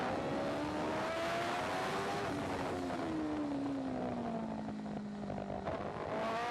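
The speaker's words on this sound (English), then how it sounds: "as Hickman goes past Nadia Schutz" Racing motorcycles at the Macau Grand Prix street circuit during qualifying, engines roaring loudly with rising and falling pitch as they sweep past, continuous and close throughout.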